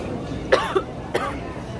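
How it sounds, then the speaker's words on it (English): A loud human cough sounds twice, in two short sharp bursts about half a second apart, close by over a low background murmur. "Somebody coughed really loud."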